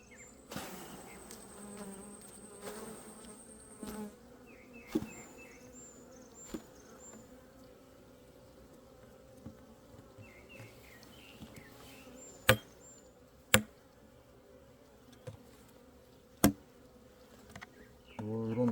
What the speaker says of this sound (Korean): 여기에 있는 요놈들은 불필요한 벌입니다.